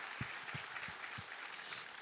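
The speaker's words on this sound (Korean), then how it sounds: "우리 하나님께 감사와 영광의 박수 올려드리겠습니다." Congregation applause in a Korean church service after scripture reading, a steady wash of many hands clapping at moderate distance with a few sharper nearby claps standing out, continuous for about two seconds with no talking.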